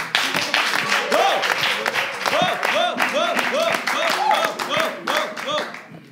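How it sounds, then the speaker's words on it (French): Applause from a crowd at a slam poetry competition for a performer, steady clapping mixed with cheers and whoops throughout, with voices calling out over it. "On l'applaudit."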